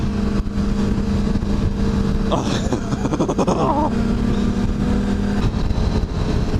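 A Kawasaki sport motorcycle riding in third gear, a steady close engine hum under wind noise with a short rising rev burst midway, while a rider talks over it.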